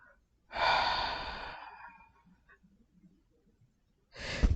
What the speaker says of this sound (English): breathe deeply through your nose, deeply, until your lungs are full, and breathe out through your mouth